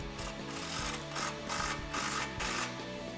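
A ratchet wrench with a 15 mm socket tightens an exhaust clamp on a 2008-2014 Dodge Challenger 5.7L HEMI cat-back system, its pawl clicking in rapid bursts with short pauses between strokes, close and alone.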